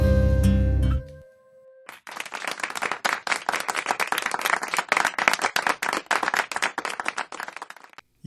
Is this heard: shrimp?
no